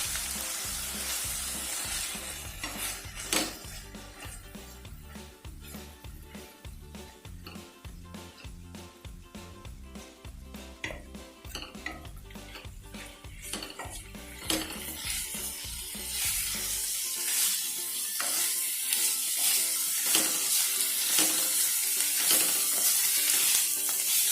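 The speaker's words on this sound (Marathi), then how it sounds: "मीठ टाकायसाठी परतवून घ्यायचं व्यवस्थित असं" Ghevda (flat beans) being stirred and sautéed in a pan, with steady frying sizzle and repeated scraping stirs, the sizzle growing brighter and louder toward the end; no talking.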